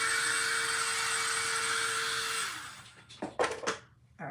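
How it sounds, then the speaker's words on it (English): A small craft blow dryer runs steadily with a loud, even whir and a fixed hum, then switches off, leaving a few short knocks and handling noises. "I was worried my little craft blow dryer was done, but thankfully it was not."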